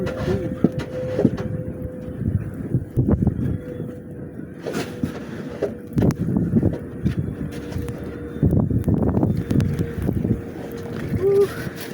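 Blizzard wind gusting hard against the microphone in a snowstorm, rumbling and buffeting in uneven surges with brief gaps, loud and close throughout.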